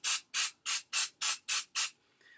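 Hair spray hisses in seven quick, evenly spaced bursts aimed at the roots, each short spritz loud and close, followed by a faint rustle.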